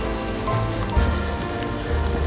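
Rain pattering steadily on and around a handheld camera outdoors by a pedestrian bridge over the Wabash River, a dense close hiss of drops with small taps, no voices.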